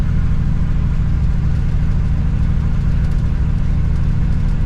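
A 1960 Pontiac Ventura hardtop engine drones loudly and continuously while driving, a heavy low rumble with a steady, noisy exhaust tone and no speech.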